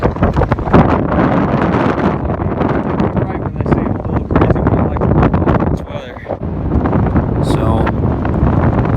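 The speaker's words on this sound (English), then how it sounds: "wind is kicking up. This is probably like 40-mile-an-hour gusts" Strong wind gusts of about 40 miles per hour on a cold, wet golf course buffet the microphone in loud, rough surges that rise and fall throughout.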